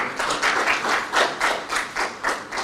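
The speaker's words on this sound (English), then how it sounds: "So I request you give a warm clap." Warm audience applause at a Senate liaison committee workshop in Uasin Gishu County, a steady wash of many hands clapping in loose pulsing waves, fairly close and with no talk over it.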